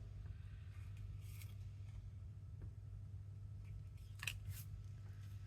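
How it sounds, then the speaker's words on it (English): Scissors cut through thick card stock for a playing card and journal card, giving faint, scattered snips and scrapes over a low background hum. "So we're just gonna have to do our best with the scissors"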